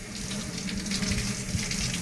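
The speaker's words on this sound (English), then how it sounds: "And rinse it in cold water," Cold tap water runs steadily into a kitchen sink with a broad hissing splash while a glob of fresh homemade butter is rinsed under it, with no talk.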